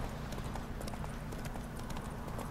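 Horse hooves clip-clop in a steady rapid rhythm in The Witcher 3, a continuous close gait with game ambience and no speech.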